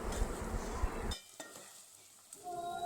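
A dried fish curry masala with chili powder is stirred in a pan, a loud sizzling scrape for about a second that then cuts off to near quiet, with a few faint clicks after.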